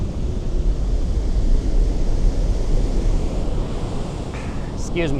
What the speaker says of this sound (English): Look at that wave. That wave is huge.